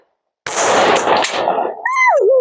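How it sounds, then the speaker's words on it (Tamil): Firecrackers burst at night during a midnight birthday celebration, a sudden loud crackling volley after a second of silence, followed by a rising and falling whistling tone. "யாருடா வெடிக்கிறாங்க நைட்ல?"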